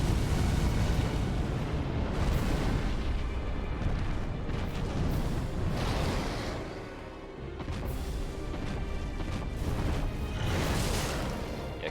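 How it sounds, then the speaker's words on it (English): Fire breath attack from a boss in Dark Souls III, a sustained roaring, rushing blast of flame that fills the whole stretch, loud and dense with swelling surges and no talk over it. "That's Fire Breath."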